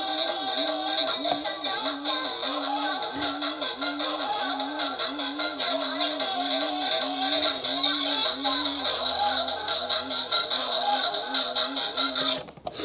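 A toy washing machine plays a continuous electronic tune with a wavering, repeating melody that stays steady and fairly loud to the end.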